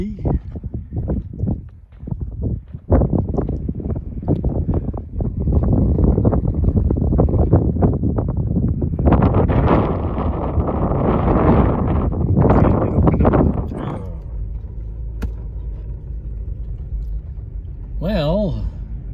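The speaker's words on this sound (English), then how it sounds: "Windy." Strong wind buffets the microphone in bursts and long gusts on a canyon rim at Rio Chama Gorge, loud and close. It eases into a quieter steady rumble near the end, then a brief voice comes in.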